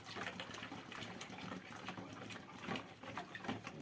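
Liquid bleach being poured into a bottle during homemade bleach making, a faint continuous gurgling, splashing flow.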